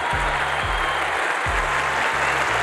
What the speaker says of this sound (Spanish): Quiero pedirles no un aplauso, un homenaje